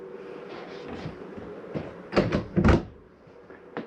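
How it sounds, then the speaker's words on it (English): Closet doors in a 2021 Mesa Ridge 323RLS RV are snapped fully open, giving a couple of sharp, close clacks and thumps in quick succession over a faint room hum. "These closet doors, make sure you snap them all the way open."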